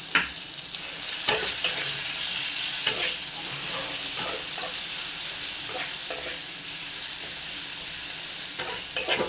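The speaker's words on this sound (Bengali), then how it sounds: "পেঁয়াজগুলো দিয়ে ভালো করে ভাজা ভাজা করে নেব।" Onions frying in hot oil for a potato and pointed gourd curry, a steady close sizzle with repeated scraping strokes of a spoon stirring through the pan.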